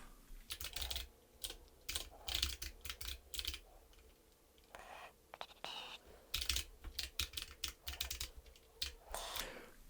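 Computer keyboard typing while writing code, a close, steady patter of key presses in quick bursts with short pauses between, heard alone at low volume.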